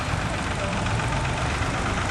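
A vintage tractor fitted with a Perkins P6 diesel engine rumbles past at a vintage show, its loud, steady low engine drone close by, with a commentator talking over it.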